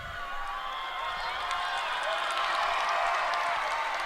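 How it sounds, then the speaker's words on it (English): A crowd in an indoor pool hall at the Manitoba/Saskatchewan swimming championship finals keeps up steady applause and cheering, a dense, continuous wash with whistles and shouts on top. "a huge round of applause for the competitors, the swimmers that will be going up, representing their provinces"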